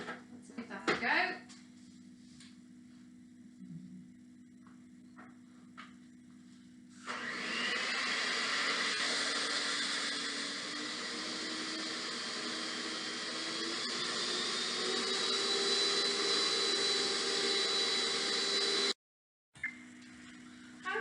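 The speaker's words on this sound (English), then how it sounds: "I'm going to whisk that, carry on whisking that" Eggs are whisked in a bowl, heard as a steady, loud whirring drone that runs for about twelve seconds after a quieter start where a voice is heard, then cuts off abruptly.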